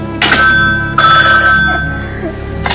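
A telephone rings inside the Talking Ben app with loud, bright electronic bursts at close range, repeating in a quick rhythm over a low background hum; no one speaks.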